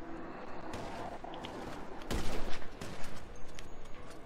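A rapid burst of gunfire in GTA V Online, with sharp cracks and a heavy volley that stays loud and dense for a couple of seconds.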